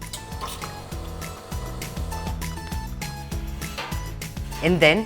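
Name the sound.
pitcher being filled with hot water from coffee machine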